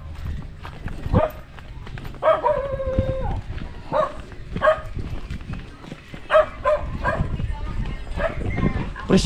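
A dog barks several times outdoors, in short bursts spread over several seconds, mixed with people talking and footsteps.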